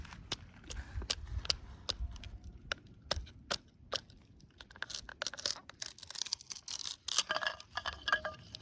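A knife blade is tapped down into the center of a wooden piece to split it into bow drill fireboards, giving a quiet series of sharp, fairly regular knocks followed by denser scraping clatter.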